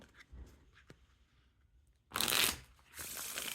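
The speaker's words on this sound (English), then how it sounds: "there's definitely no issues with the riffle shuffles or bridge shuffles" Quiet handling noises give way to a crisp, rapid riffle shuffle of Theory11 Lord of the Rings playing cards, followed by a second shorter riffle burst.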